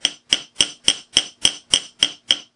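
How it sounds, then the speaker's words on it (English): Nine sharp metallic hammer taps on silver wire against an anvil ring out at an even, steady pace, each one bright and close with a short decay. "I'll close it back down and hammer it again."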